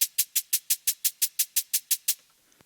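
A drum-and-bass beat programmed on grid with identical velocities: a steady, evenly spaced run of crisp hi-hat ticks with a light thump, perfectly regular and mechanical, about a dozen hits before stopping.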